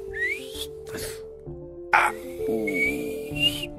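A voice imitates an arrow whistling through the air: a short rising whistle, a breathy burst, then a long high whistle tone, close and clear.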